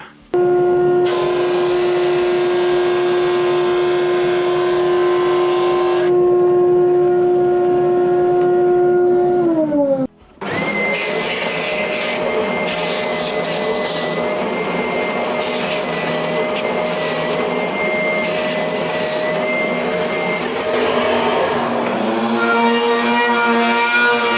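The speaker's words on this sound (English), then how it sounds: "now I'm gonna send this through the drum sander a couple times" A drum sander drones loudly and continuously as an epoxy river piece feeds through, with a steady tonal whine that briefly drops out before the rougher, grinding sanding noise resumes at full strength.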